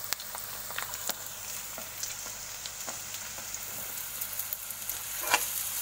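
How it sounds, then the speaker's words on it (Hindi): Green chillies frying in a pan for veg hakka noodles, a soft steady sizzle with occasional pops and crackles, moderately quiet with no talking. "अभी ग्रीन चिली पीसेस डालना है, आपको तीखा कम चाहिए तो कम डालिए इसमें।"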